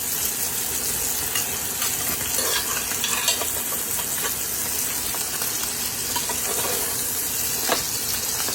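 A sous vide steak frying in butter in a hot pan gives a loud, continuous, close sizzle, with scraping and a few metallic clinks as it is handled and turned.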